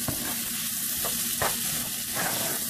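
Flour being stirred into a pan for mushroom gravy, steady sizzle beneath a few scraping strokes spaced about every second, close and moderately loud, no voices.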